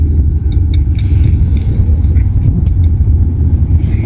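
Road traffic in a Philippine town, heard from inside a car as a loud, steady low rumble of engines, with some talk and faint clicks mixed in.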